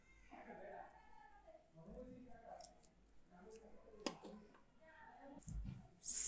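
A cat meowing in a children's alphabet song, with drawn-out tonal meows and a few clicks. The sound is fairly close but moderate in loudness, and a sharp, louder burst comes at the end.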